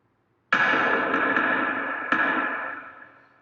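A sound processed with a reverb effect in GarageBand: two sharp struck onsets about a second and a half apart, each blooming into a long, bright, echoing tail that slowly decays to silence.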